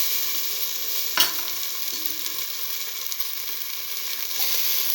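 Tomato pieces frying in a pan while being stirred, a steady bright sizzle with a sharp scrape of the utensil near the start and softer stirring after, no talk.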